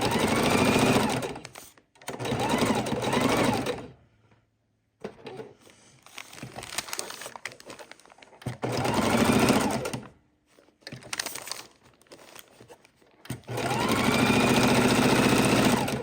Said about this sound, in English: we're just sewing around our star